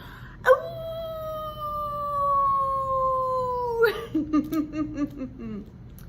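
Children at a pre-K storytime imitate a wolf howl, one long sustained rising-then-falling howl, followed by a burst of excited yipping voices and giggles trailing off.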